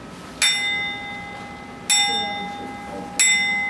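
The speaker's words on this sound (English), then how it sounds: "this is a gong bell" A gong bell used in Buddhist practice is struck three times at a slow, even pace, each strike a bright ringing tone that decays gradually between hits, clear and close in a quiet room.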